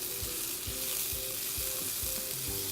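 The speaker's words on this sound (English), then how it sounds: "I'm going to stir the sweet potatoes and onions" Sweet potatoes and onions sizzle steadily in a frying pan, with a continuous crackling hiss and soft periodic scrapes and knocks of a utensil as they are stirred, all without talk.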